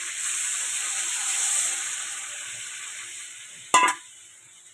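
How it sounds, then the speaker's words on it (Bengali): Water hits a pot of hot crab curry with a sharp, bright hiss of steam that fades, followed by a brief clatter near the end. "এর মধ্যে আমি জল ঢেলে দেবো।"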